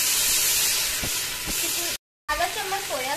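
Red chili sauce hits a hot pan over a low gas flame and gives off a loud, steady hiss and sizzle. After a brief cut, the sizzle continues with clinks of a utensil.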